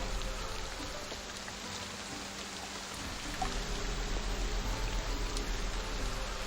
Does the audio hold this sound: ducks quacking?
no